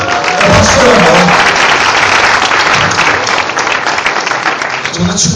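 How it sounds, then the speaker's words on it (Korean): Audience applause at a Korean live show, a dense, loud burst of clapping from a crowd that holds steady for several seconds with no talking over it. "우리 박수로 한번"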